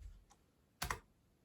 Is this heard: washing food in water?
no